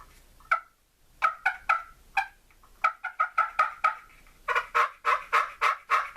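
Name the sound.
turkey call imitating turkey clucking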